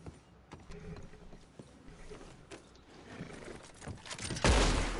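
A horse in Red Dead Redemption 2 whinnies and its hooves clop in scattered beats, fairly close, ending in a louder burst of noise.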